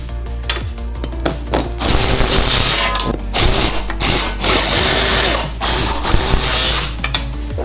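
Rapid mechanical whirring and clicking bursts from a power driver or ratchet tightening 10mm seat bolts on an ONYX RCR 80V electric motorcycle, loud and close, running in repeated stretches with brief pauses.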